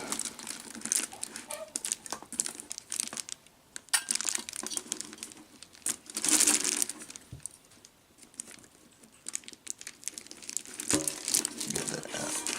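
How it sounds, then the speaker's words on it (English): Aluminum-foil-covered cardboard is wrapped around a large bowl, producing bursts of crinkling and crumpling close up, loud in patches with quieter gaps between handling movements. "take my cardboard that's covered in aluminum foil and wrap around"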